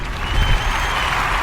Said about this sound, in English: Actually, where's my applause button?